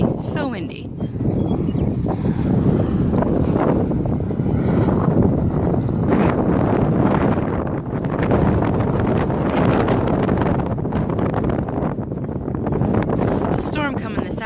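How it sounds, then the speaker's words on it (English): Strong wind ahead of a storm buffets the microphone outdoors at an alpaca farm in a loud, continuous roar with gusty surges, and a voice speaks faintly beneath it. "it is so windy today. So windy."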